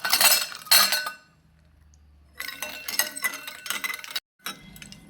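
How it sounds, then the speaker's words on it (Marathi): Ice cubes dropped into a glass of sweetened milk, giving bright clinks and clatters in a few short bursts separated by near silence. "4 ते 5 आईस क्यूब्स घालून घेऊया।"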